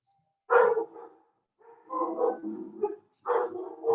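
A dog barks and yips close by in a few separate bursts, with short quiet gaps between them.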